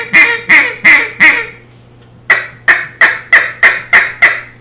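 Duck call blown as a hunting feed call with a squeaky tone: two bursts of rapid, close, loud quacking notes, first a group of four, a pause, then a faster run of about seven, with no talk.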